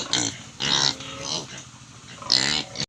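Piglets in a crowded farm pen with larger pigs give loud, close grunts and squeals in several bursts, separated by short quieter gaps.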